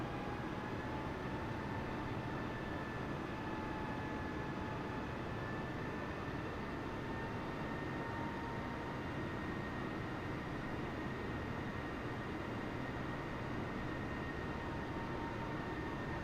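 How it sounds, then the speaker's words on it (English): An airliner taxis toward the takeoff point at Gatwick in Microsoft Flight Simulator 2020, giving a steady, unbroken engine drone with a faint whine held at a constant level throughout. "we are taxiing to the takeoff point"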